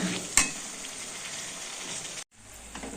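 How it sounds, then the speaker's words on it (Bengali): Spice paste fries with potatoes in oil in a pan, a dense continuous sizzle broken by a sharp knock early on and a brief dropout near the end before the frying resumes. "এই মশলাটাকে দিয়ে ভালো করে এবার কষাতে হবে।"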